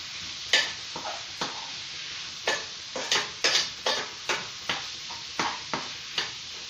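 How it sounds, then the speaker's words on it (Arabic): Chicken pieces fry in hot oil in a pan for homemade tacos. A steady close sizzle is broken by regular clinks and scrapes of stirring about every half second. "غادي ندير الزيت غير تقلى لي في المقله"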